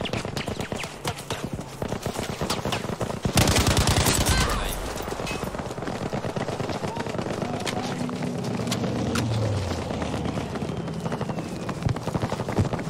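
Machine gun bursts and rapid gunfire crackle through a Battlefield V match on the Hamada map, loud and close, with one especially heavy burst early and busy battle noise continuing underneath.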